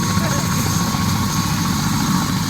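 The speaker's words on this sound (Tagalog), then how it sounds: "Black helicopter team!" Helicopter engine and rotor noise at Queenstown, New Zealand, a loud, steady, close-up whirring drone that fills the whole moment without pause.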